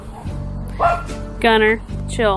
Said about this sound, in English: He's barking at another dog.